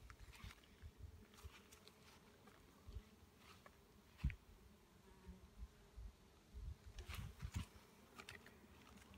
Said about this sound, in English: Inside a beehive. First time ever.